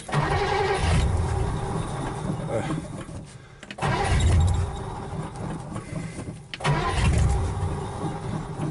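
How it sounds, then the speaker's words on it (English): A 1951 Studebaker Headliner car engine, long unstarted, is cold-started. It cranks and runs roughly in three loud bursts separated by brief dips, with voices talking over it. "let's do a cold start on it while we're here"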